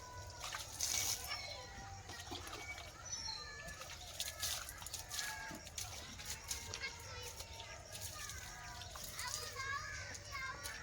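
Quiet clucking from a group of chickens mixes with children's chatter and voices talking outdoors, all faint and somewhat distant.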